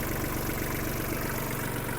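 A Kubota KL-250 mini tractor engine idling steadily with a low, even rumble and slight knocking vibration, running without pause.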